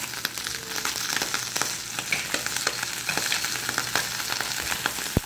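A piece of opah fish sears skin side down in hot oil, a loud continuous sizzle with scattered crackles and small pops running steadily throughout, no voices.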